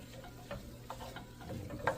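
A spoon stirs melting butter through onions in a pot for French onion soup, giving a soft, steady sizzle with light scraping strokes and occasional small clicks, close and fairly quiet.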